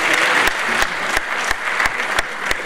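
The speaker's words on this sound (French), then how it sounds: "On applaudit bien fort." Applause from a gala audience at a Miss Mali France pageant evening, a dense wash of clapping with a few sharper individual claps standing out, loud and steady through the short stretch.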